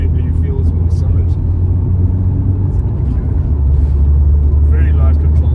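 A 1994 Mercedes-Benz W202 C180 with a manual gearbox is being driven, heard from inside the car as a steady low engine and road rumble under continuous talking.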